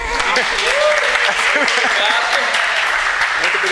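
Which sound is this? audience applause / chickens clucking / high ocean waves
audience applause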